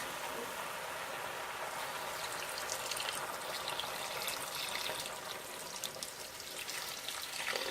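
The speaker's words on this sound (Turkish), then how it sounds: "Şimdi üzerine sıcak su dökeceğiz." Hot water is poured over fried potatoes in a pot during a village chicken stew, giving a continuous close hissing, rushing splash with a faint bubbling sizzle and no clear voices.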